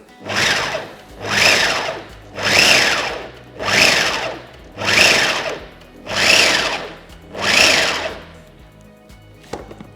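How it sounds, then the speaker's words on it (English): A food processor pulses pastry dough with butter: six loud, evenly spaced whirring bursts about a second and a half each, close up, ending in silence. "just keep pulsing, you don't want the butter to melt"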